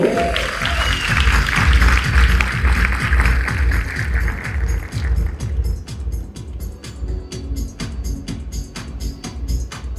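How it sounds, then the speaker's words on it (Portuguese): An audience at a franchisee convention applauds speaker Walter Longo with dense, loud clapping that thins out over the second half into scattered claps, with a voice heard over the applause at the start. "Senhoras e senhores, uma salva de palmas para Walter Longo!"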